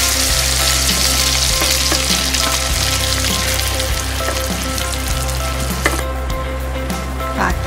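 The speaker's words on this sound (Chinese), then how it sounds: "把鸡蛋炒入凝固" Eggs stir-fried in a wok with a little bean paste and red oil, giving a steady close sizzle with repeated spatula scrapes and clinks throughout, no talk.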